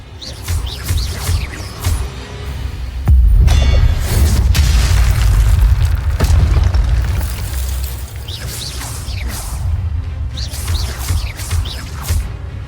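Incendio fire spell cast in the Hogwarts Legacy video game, a loud sustained whooshing, roaring burst of flame that swells in the middle and trails off, amid other game effects and faint chirping.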